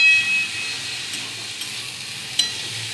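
Eggplant and onion stalks frying in a pan, a soft steady sizzle with faint stirring scrapes and a couple of sharp little pops, close and without talk.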